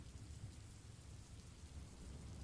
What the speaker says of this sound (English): We're going to watch it with some